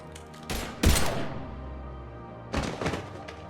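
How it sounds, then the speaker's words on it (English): Bursts of gunfire in a video game firefight: a short volley, then a loud heavy blast, a decaying tail, and another rapid cluster of shots a couple of seconds later. "Now open fire!"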